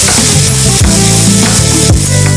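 Sugared raisins cooking in a pan and being stirred, a loud close sizzle with scraping stirs about once a second, and no voice.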